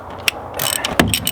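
A ratchet loosens a 14mm bolt on a manual transmission, giving a brief run of quick, close clicking with a few sharper ticks.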